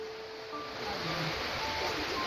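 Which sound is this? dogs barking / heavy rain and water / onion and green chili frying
heavy rain and water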